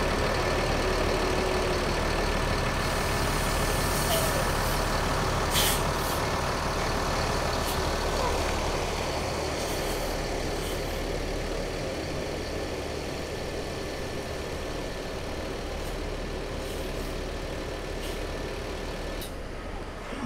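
A Sumatran bus engine idles with a steady low rumble while the bus parks again, loud and close for the whole stretch, with occasional faint clicks above it.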